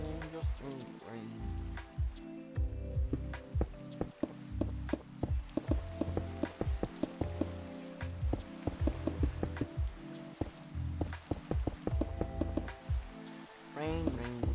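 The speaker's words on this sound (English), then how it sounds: "It's raining again." Steady rain falls in the video game Minecraft, a dense patter of drops hitting surfaces across the whole stretch with bursts of crackly detail, loud and continuous with no talk.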